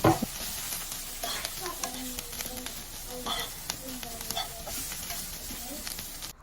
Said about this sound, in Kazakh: Пиязымыз қызарғаннан кейін үстіне ұсақтап тұрған сәбізімізді бір 10 минуттай қуыратын боламыз.